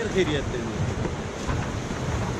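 Loud, steady rushing of river water below a swaying footbridge in a mountain village, a continuous broadband roar with wind buffeting the microphone and no speech.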